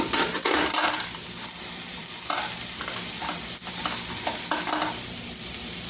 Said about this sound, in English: I've got my sausage browning here, as you guys can see